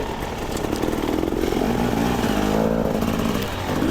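A dirt bike ridden on single track in Nova Scotia, its engine droning steadily with small rises and falls in revs, loud and close throughout, with no talking.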